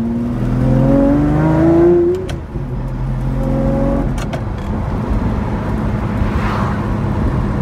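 A Lamborghini Murcielago with a six-speed manual gearbox runs while driving, its engine droning loud and close with a rising rev. The revs dip near the middle, then settle into a steady, throaty hum.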